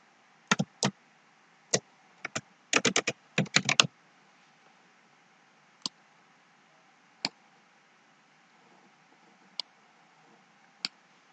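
Computer keys clicked in a quick cluster of taps, then isolated single keystrokes spaced seconds apart, crisp and close in an otherwise quiet room.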